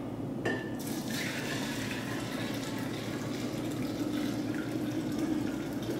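Boiling water is poured steadily into a jar nearby, a continuous liquid fill with a faint clink at the start, no talking.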